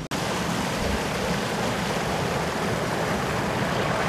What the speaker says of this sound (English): So I've just come to this little bit where there's a nice little waterfall